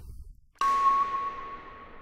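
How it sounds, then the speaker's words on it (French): A single struck metallic tone treated with a metallic reverb effect rings out abruptly after a brief quiet, a sustained bright ping with a long shimmering tail that slowly fades, heard alone. "Reverb métallique."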